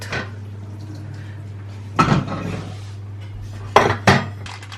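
Metal cupcake pans lifted out of a kitchen oven and set down on a cooling rack, a few separate clanks and scrapes over a steady low oven hum, with no talking.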